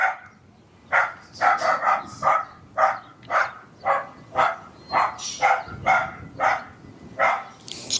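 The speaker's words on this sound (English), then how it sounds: "Dog doing his job to bark." A dog barks at a mail carrier passing by its yard: a steady run of about fourteen sharp, fairly close barks in quick bursts, with no voices.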